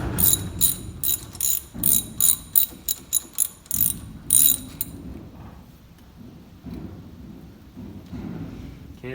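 A ratchet wrench turning a part into its threads on a John Deere 7020 Roosa Master/Stanadyne JDC injector pump: quick bursts of sharp ratcheting clicks, then quieter handling noises, close and clear.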